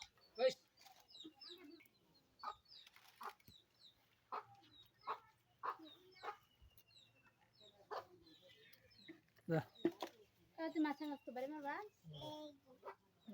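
Chickens cluck in short bursts at close range, with scattered squawks, while people talk intermittently nearby.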